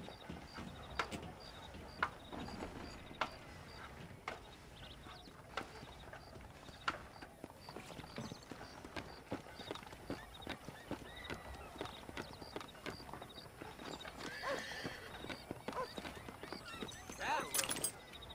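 Horses in the Red Dead Redemption video game clip-clop at a walk and trot with repeated hoof hits, joined by an occasional whinny, set against a faint ambient backdrop.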